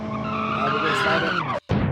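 A drag car slides on a track, its tires squealing in a loud, sustained screech that bends downward in pitch before cutting out briefly, followed by a burst of engine and road noise.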